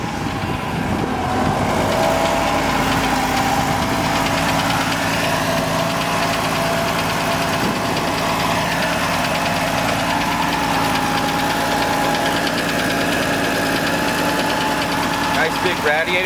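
A 1950 Dodge five-window Pilot House dually pickup idles with a loud, steady, slightly knocking rumble that holds unchanged throughout.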